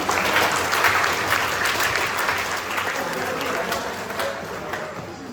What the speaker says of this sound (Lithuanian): Dar kartą plojimai